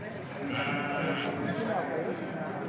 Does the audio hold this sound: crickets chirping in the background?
no